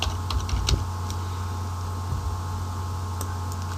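A computer keyboard sounds several quick, light key taps near the start and a couple more later, soft and close over a steady fan-like hum.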